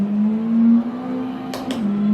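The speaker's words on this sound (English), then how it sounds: "So we're driving the Corvette today." A Corvette engine in a racing video game driven on a Leoxz XGT PRO wheel, holding a steady loud drone near idle with slight rises in pitch and a couple of quick sharp blips near the end.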